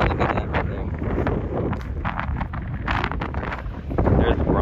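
Strong wind in Death Valley roars and buffets the microphone continuously, a loud low rumble with gusts that swell near the end.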